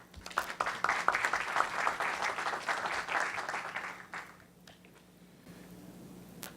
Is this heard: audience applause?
yes